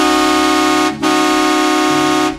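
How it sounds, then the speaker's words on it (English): A loud, sustained truck horn blares steadily, briefly dipping once before resuming, then cutting off after about two and a half seconds. "he leaned back into the cab and honked the truck's horn loudly."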